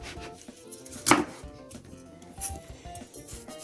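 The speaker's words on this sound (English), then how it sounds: "So I'll have to peel it. Peel off all this rind." A knife peels the rind off a halved watermelon in a home kitchen, giving a series of close scraping cuts with one sharp louder slice.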